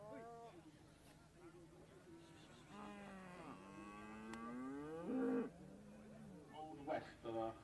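Hereford cattle at an agricultural show moo in long, drawn-out calls, several overlapping and rising and falling, moderately close, with a public-address voice and crowd murmur underneath.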